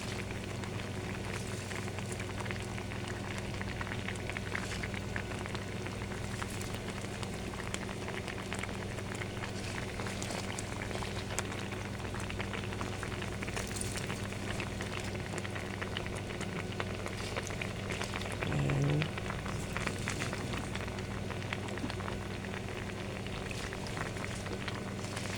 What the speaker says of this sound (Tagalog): kumukulo na siya talaga